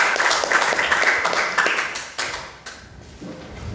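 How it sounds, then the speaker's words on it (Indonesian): A classroom of students claps for a classmate, a quick burst of applause that thins and fades over a few seconds. "Tepuk tangan dulu."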